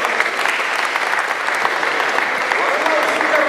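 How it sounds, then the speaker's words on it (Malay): Sustained applause from an audience at a university retirement farewell ceremony for a professor, a dense, steady roar of many hands clapping throughout without a break. "Kita beri tepukan kepada Allah."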